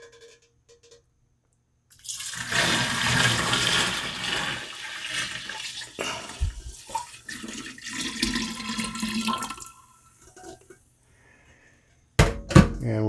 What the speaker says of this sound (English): start transferring everything over into our primary fermenter